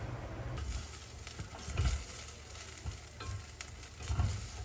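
Potatoes seasoned with black pepper sautéing in a pan, giving a steady close sizzle with occasional stirring scrapes and light clinks throughout, no voices.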